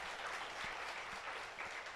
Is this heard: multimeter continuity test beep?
no